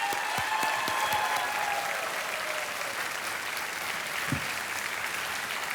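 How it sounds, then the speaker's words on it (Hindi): Loud, sustained applause from a studio audience on a televised quiz show, cheering a young winner with a thick continuous wash of clapping and a few sharper claps standing out. "तालियां बजती रहें"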